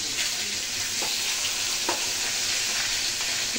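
Fish frying in hot oil, a loud, dense, continuous sizzle close up, with a few faint scrapes or taps mixed in.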